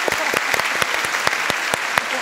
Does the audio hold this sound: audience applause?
yes